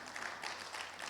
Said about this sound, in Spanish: ¿Cuántos le dan un fuerte aplauso al Señor, por favor?